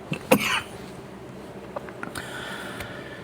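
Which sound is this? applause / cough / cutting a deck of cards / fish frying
cough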